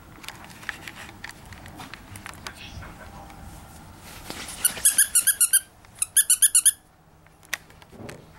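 A white Pekingese puppy gives a run of high, rhythmic yips and squeaky barks in two quick bursts, with rustling and shuffling around it.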